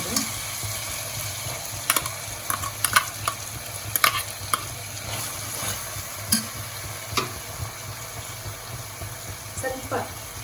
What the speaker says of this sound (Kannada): ಫಸ್ಟ್ ಇದು ಫ್ರೈ ಆಗಲಿ ಚೆನ್ನಾಗಿ.